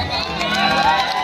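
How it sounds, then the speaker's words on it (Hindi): Audience at a live stage show clapping and cheering loudly in a continuous dense wash of applause and shouts, with no pauses. "एक बार इनके लिए जोरदार ताली बजा दीजिए।"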